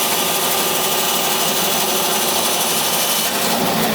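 A power saw cuts a curve through acrylic sheet for a nightlight, giving a loud, continuous, dense cutting whine, close up and unbroken throughout.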